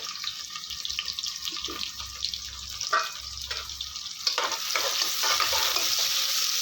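Onions and whole green chillies fry in a pan: a close sizzle with repeated stirring scrapes and clatter, building into a louder, steady hiss toward the end, without talk.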